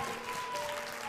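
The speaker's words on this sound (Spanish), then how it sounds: "Camila Vázquez, este aplauso es" Brief burst of studio audience applause on a television show, steady clapping heard somewhat faintly over about a second, with a sustained tone running beneath it.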